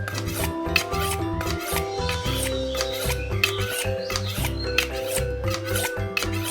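Delman knife being honed on an old steel bar salvaged from a thread-spinning machine, a run of quick repeated scraping strokes at close range, with rhythmic metallic rasping throughout.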